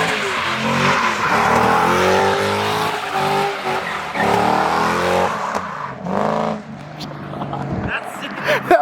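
Tires squeal loudly as a car breaks loose under hard throttle at a car show, the engine roaring and the screech sustained for several seconds before fading, while excited voices talk over it.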